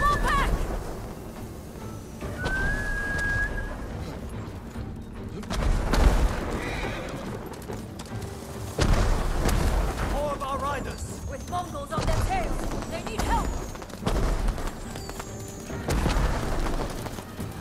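Horses neigh and whinny with hoof clip-clops during a battle retreat in the Ghost of Tsushima video game, Iki Island expansion, mixed with booms and dialogue, several rising whinnies spread through the scene.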